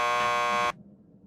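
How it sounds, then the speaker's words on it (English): A door buzzer in the video game Max Payne 2 sounds one loud, steady electronic buzz lasting about three quarters of a second, then cuts off abruptly into quiet room tone. "Just press the buzzer by the door."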